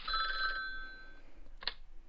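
Phone ringing in the Talking Ben dog video game: a short electronic trill ringtone burst, fairly faint, then a brief click-like sound after a pause, with no voices.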